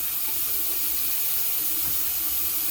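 Water runs steadily from a tap into a sink for wetting the face before a straight razor shave, a close, continuous splashing hiss with no talk.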